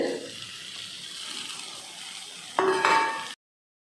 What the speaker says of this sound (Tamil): தேங்காய் துருவல் சேர்த்துட்டு நல்லா கலந்து விட்டாச்சு